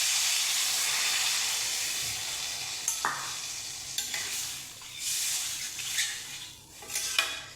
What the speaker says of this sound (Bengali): কষানো হয়ে গেছে, দিয়ে দেবো জল।